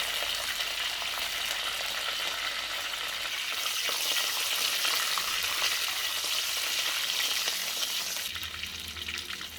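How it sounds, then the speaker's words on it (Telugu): Cumin, curry leaves, green chilies, coriander and mint hit hot oil for a country chicken soup, setting off a loud, bright, crackling sizzle that swells and then eases as the pan is stirred, with no talk. "ఆయిల్ హీట్ అయిందండి. ఇప్పుడు కొద్దిగా జీలకర్ర, కరివేపాకు, పచ్చిమిర్చి, కొత్తిమీర, పుదీనా వేసుకుందామండి."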